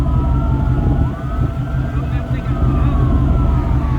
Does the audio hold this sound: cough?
no